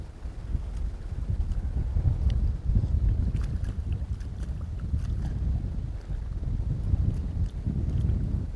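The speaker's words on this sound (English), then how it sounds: "the wind's gone absolutely mad" Strong gusty wind buffets the microphone outdoors at a fishing venue. The low rumble is loud and close, rising and falling in uneven surges, with no talking.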